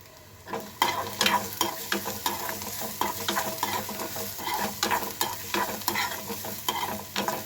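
Onion with a pinch of salt stir-fried in a pan for potato bhaji: a spatula scrapes and turns it in steady, rhythmic strokes over a soft, continuous sizzle, close by with no talking.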